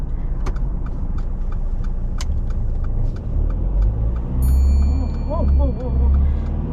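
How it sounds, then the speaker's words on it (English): A car engine starts during a driving-test practice, turning over and catching into a low idle that swells and settles, with people talking nearby. "let's start the engine"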